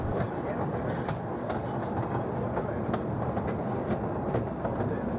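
A train on the Statfold Barn heritage railway rolls along the track, heard from on board as a continuous low rumble with rhythmic clickety-clack wheel beats and occasional sharper clanks.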